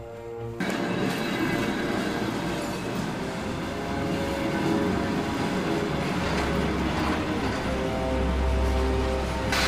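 A Trans-Mongolian train pulls out toward Ulaanbaatar as a continuous loud rumble of wheels and carriages, heard from on board, steady and dense throughout with no talk.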